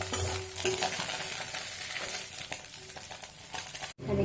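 Onions sizzle in a pan with a constant close frying hiss, occasional stirring scrapes breaking through, and a brief drop near the end before the sizzle resumes; no one speaks.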